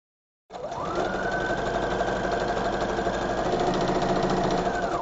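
A sewing machine stitches fabric for a big bow, starting abruptly and running at a steady, fast, even mechanical chatter close by with no talk.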